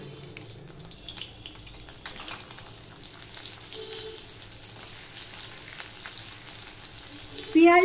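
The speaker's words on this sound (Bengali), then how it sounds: "এই মাছ ভাজার তেলে আমি এবারে পেঁয়াজ দিয়ে দেব" Sliced onions frying in hot oil left over from frying bele fish, a steady close sizzle and crackle that holds throughout with light clinks of stirring, swelling louder at the very end.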